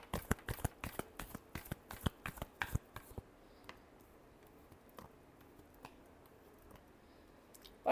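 Tarot cards shuffled in rapid, sharp riffling bursts for about three seconds, then a few scattered soft card taps and handling noises in a quiet room.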